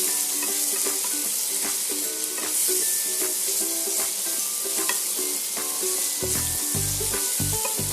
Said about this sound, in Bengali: আদা বাটা আর রসুন বাটাটা আমি পেঁয়াজের সাথে ভালো করে ভেজে নেব